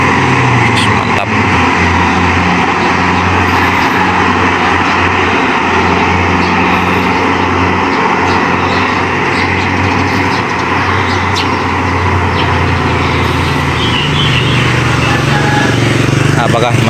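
Heavy road traffic rumbles steadily as buses drive past on a road, a loud continuous engine drone with low rumble and hiss throughout, and voices mixed in.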